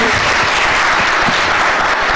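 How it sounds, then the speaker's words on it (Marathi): A hall of school students applauds their teachers, dense steady clapping from a crowd close by, loud and sustained throughout. "थोडीशी शिक्षकांसाठी टाळ्या तुम्ही वाजवल्या"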